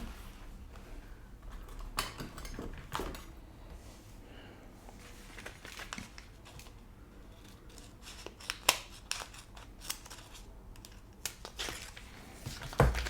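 Scissors snip through a sheet of stickers in a run of close, crisp cuts with paper rustling between them, ending in a sharper final snip.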